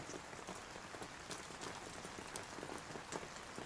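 Steady rain falls on a surface, a dense, even hiss with scattered close drops pattering throughout, fairly quiet and with no voices.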